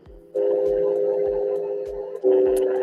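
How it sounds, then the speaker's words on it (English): Steady telephone tone, a sustained electronic hum that shifts slightly in pitch partway through, with faint periodic clicks underneath and no talk. "Whose phone is that?"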